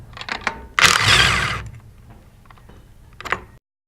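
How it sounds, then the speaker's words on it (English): A 3/8-inch drive impact gun loosens bolts on the discharge manifold of a 2-inch bolted plastic pump, giving one loud rattling burst of about a second amid softer clicks and tool handling. "today we're going to use a 3/8 drive impact gun. We'll start off by removing the discharge manifold."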